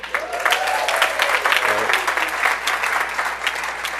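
Steady audience applause fills the whole stretch, dense clapping from many hands with a brief voice rising over it early on.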